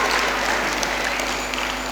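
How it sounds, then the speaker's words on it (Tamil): An audience claps together in a steady, dense patter of applause that holds at an even level throughout, with no talking. "உங்கள் எல்லாருக்கும் ஒரு கைத்தட்டல்."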